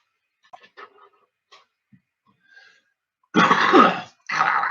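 A couple of quiet short throat sounds, then two loud, harsh bursts of coughing or throat clearing close to the mic, one after another.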